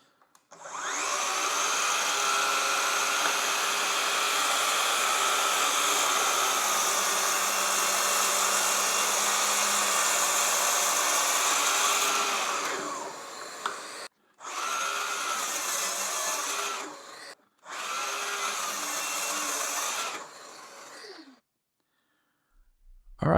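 A power tool makes three cuts with a dust-extraction vacuum linked by Bluetooth, a loud steady whine running about twelve seconds and then two shorter bursts separated by brief pauses, with no talking.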